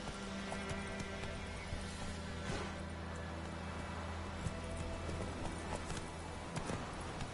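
A horse named Roach runs in a PS4 video game, its hoofbeats a steady, fairly close clip-clop over a constant bed of game music and ambience, with no talk.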